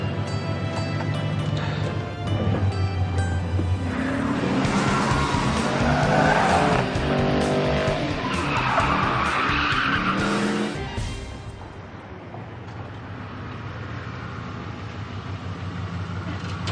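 Car driven hard with tires skidding and squealing over a loud engine roar, the noise surging for about eleven seconds before briefly dropping away and then continuing.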